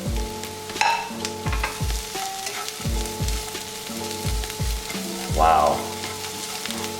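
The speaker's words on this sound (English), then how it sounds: "let's go ahead and put in the onions." Onions frying for Hakka noodles, a loud steady sizzle with a spoon knocking and scraping rhythmically against the pan, a brief exclamation from a person partway through and a short burst of hissing later.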